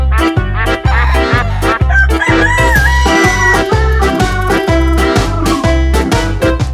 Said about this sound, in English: Oh wow! And look at Super Rooster.